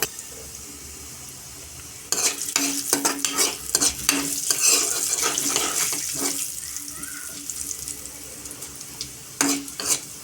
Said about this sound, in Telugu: ఇప్పుడైతే ఇందులో ఆవాలు కూడా వేసుకుంటున్నాను